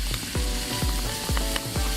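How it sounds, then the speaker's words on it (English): Onions sizzle and fry in a hot pan, a steady loud crackle with stirring or scraping strokes repeating about every half second, and no voices over it. "Check out that sizzle."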